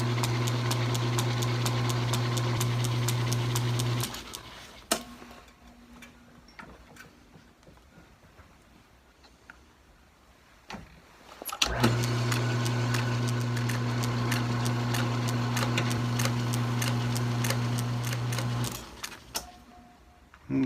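A metal lathe running with its drive belt rubbing on the shroud, giving a loud steady hum with rapid ticking. It stops partway, the room goes quiet, then the lathe starts again and runs before winding down, with no talking.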